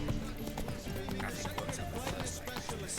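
Roach, the horse in The Witcher 3, trots along with a steady clip-clop of hooves and a brief whinny, while a voice talks over it.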